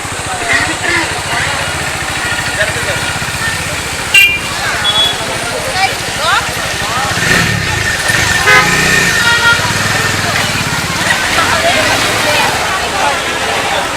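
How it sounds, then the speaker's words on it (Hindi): A Bajaj Dominar 400 motorcycle engine droning while riding in a group with other bikes, a constant loud road roar mixed with wind, a short horn toot, and people talking over it. "यार डोमिनार 400 की तो काफ़ी अच्छी साउंड आ रही है"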